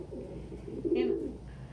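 Pigeons or doves coo near bird enclosures, a single soft throaty coo rising briefly above a low, steady background murmur.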